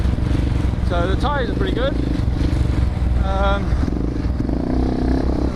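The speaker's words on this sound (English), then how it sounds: "The bike's handling really weird in the sand." A KTM 690 Enduro R on Michelin Dakar sand tyres rides through loose, loamy sand with a steady, close engine drone, while a rider talks over it throughout.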